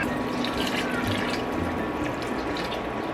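Water poured from a container into a pot of pork being cooked with coconut milk, a steady continuous splashing and trickling stream running the full length, close and fairly loud with no talk.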